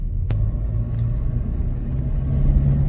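A 1995 Nissan Skyline R33 GTR in midnight purple rumbles nearby with a steady, deep, loud engine drone that holds even throughout and swells slightly toward the end.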